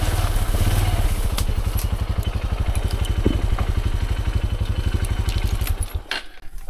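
A motorcycle engine idles with a fast, even thumping putter as the bike is moved inside for safekeeping off the highway, loud and close throughout, with light clatter before the engine cuts out near the end.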